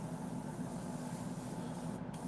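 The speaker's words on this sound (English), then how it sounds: "this is spraying very slow" Paint sprayer driven by a compressor set to low pressure, spraying slowly while repainting a Sideshow Darkseid maquette; a faint, steady airy hiss continues evenly with a slight dip near the end, no talking.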